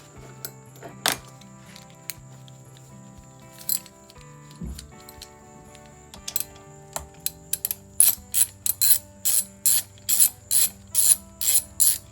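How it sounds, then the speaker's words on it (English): A ratchet wrench works on the muffler of a Craftsman 38cc small engine: scattered metallic knocks and clicks come first, then a sharp, close series of rhythmic ratcheting clicks. "Let's take the muffler off."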